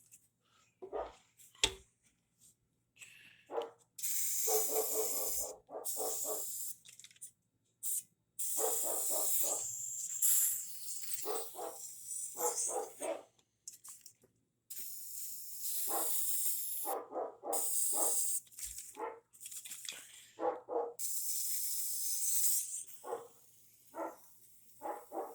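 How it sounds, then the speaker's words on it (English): Disinfectant spray hisses inside a microwave in repeated bursts of varying length, some short puffs and some longer blasts, with silent gaps between them. "Disinfectant spray. We can try it."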